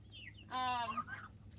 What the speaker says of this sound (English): He's a baby goose. He's a little gosling.